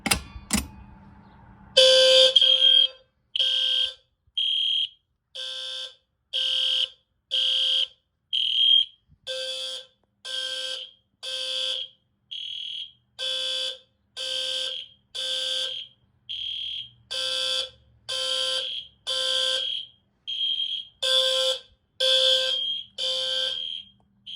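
A fire alarm system set off by pulling an old pull station during a system test, loud repeating electronic horn blasts in an even on-off rhythm that continue for the whole stretch after an opening clack.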